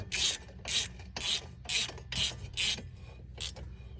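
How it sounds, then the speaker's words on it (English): A small bolt is tightened to hold a wheel hub rotor in place, giving about seven short, evenly spaced rasping turns, close and moderately loud, with brief gaps between strokes. "we're going to tighten this down to hold the rotor in the right spot"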